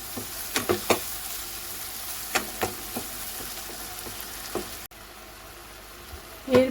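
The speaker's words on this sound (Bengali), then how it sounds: "এরপর এতে দিয়ে দেবো 1 টেবিল স্পুন আদা রসুনের পেস্ট, দিয়ে ভালো করে কষিয়ে নেব।" Tomatoes with ginger-garlic paste sizzle in a pan for baingan masala, a steady frying hiss broken by scraping stirs, then a brief quieter stretch before a final clatter of the spoon.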